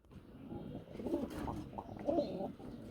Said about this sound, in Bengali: খালি ডাক দেখেন বন্ধুরা কালদমের শুধু ডাক দেখেন কত সুন্দর